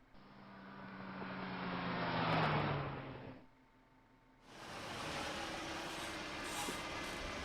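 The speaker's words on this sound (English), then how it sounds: "Car noises." A rumbling video game car engine rises and falls, dips briefly, then resumes a steady drone with a hissing air-brake-like release.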